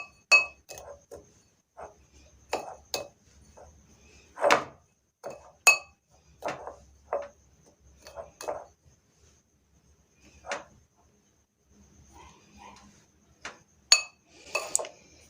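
A big spoon mixes leftover roti in a dish, making a series of sharp, close clinks and taps against the bowl at an uneven rhythm, with quiet pauses between strokes.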